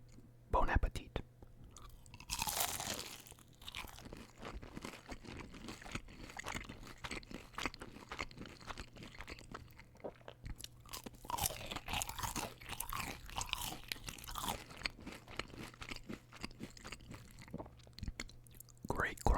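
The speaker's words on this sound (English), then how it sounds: "Great crunch on these." Close, crisp crunching and chewing of Arby's fried mozzarella sticks and curly fries, wet bites and crackly chews repeating steadily through the whole stretch with no talk.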